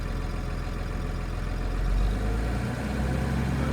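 A 2006 Cummins diesel engine hums at a low, steady idle, then swells slightly as the revs rise, a close, continuous rumble with no voices.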